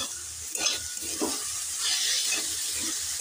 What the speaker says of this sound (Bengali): 2 মিনিট পর ঢাকনা খুলে আবারও ফুলকপিটাকে নেড়েচেড়ে নিচ্ছি।